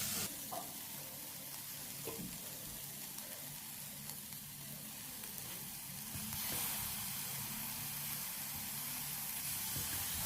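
Cut tomatoes sautéing in a hot pan, a steady close hissing sizzle with faint stirring scrapes running throughout.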